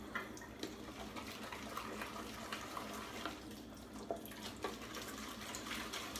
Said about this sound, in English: make sure we rinse this all out very well